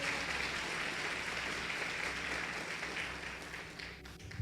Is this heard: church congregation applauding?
yes